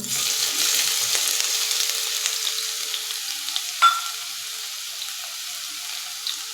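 Finely chopped onion fries in hot oil in a kadhai over medium gas, giving a steady soft sizzle with a few faint stirring clinks. One sharper metallic tap stands out partway through, and no one speaks.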